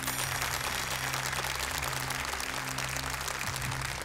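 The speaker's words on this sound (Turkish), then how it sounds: "Alkışlarınız Turgut Korkmazer için." Applause from the audience at a Quran recitation competition, a dense and even wash of clapping that holds steady throughout, with no voices over it.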